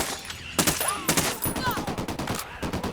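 Automatic gunfire in the tactical shooter Ghost Recon Wildlands, with rapid loud bursts of shots in a quick, uneven rhythm, some ricochet whines and voices talking in between.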